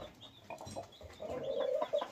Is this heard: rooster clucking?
yes